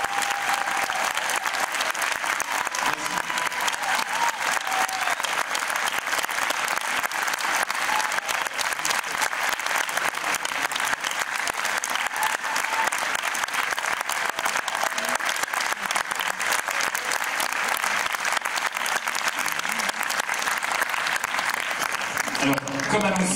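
A theatre audience applauds loudly and steadily for about twenty-three seconds, welcoming Josh Hartnett to a film Q&A for Oh Lucy! in Le Havre. The clapping stays dense and unbroken throughout.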